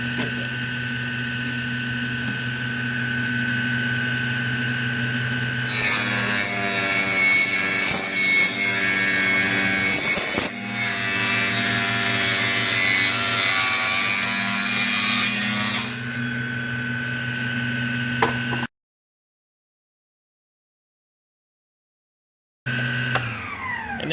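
A Proxxon table saw rips through reclaimed pallet wood with a loud, steady, rasping whine that lasts about ten seconds, then cuts off. The motor hum runs before and after, with a pause of silence near the end.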